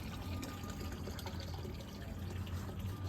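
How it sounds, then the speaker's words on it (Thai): Steady broadband rush of a waterfall in a garden, continuous and fairly loud, with a low rumble underneath and no voices. "มาดูน้ำตกกันจ้ะ"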